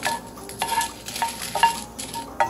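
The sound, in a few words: roasting dried red chillies in a pan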